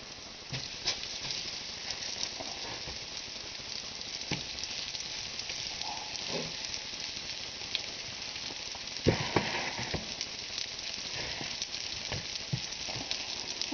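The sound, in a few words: garlic frying in a pan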